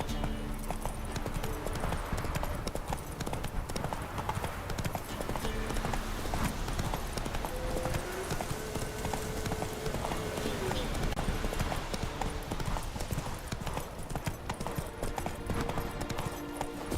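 The horse Roach galloping in The Witcher 3, a fast, continuous rhythm of hoofbeats under game music and ambience, with voices speaking intermittently.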